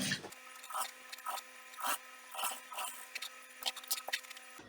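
A sewing machine stitches around a corset pattern cut from a bustier pattern, with a steady motor whir broken into short, rhythmic bursts of mechanical rattling, quiet and close.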